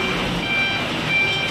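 A vehicle rolls past a queue of people waiting outside at a relief goods distribution, a loud, steady engine and road rumble filling the whole moment with a faint high beep riding on top.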